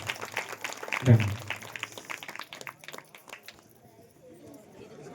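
An audience at a Christmas church gathering claps for a children's skit. A burst of applause swells quickly and then thins and fades over a few seconds, with a voice talking through it.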